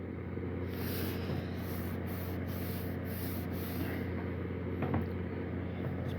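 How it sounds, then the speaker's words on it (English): Cloth rag rubbing wood stain off a bench being restored, a steady broadband scrubbing hiss with a low hum underneath, fairly close and continuous, with faint strokes and no talking. "Grab a rag. Wipe it off and see how I guessed."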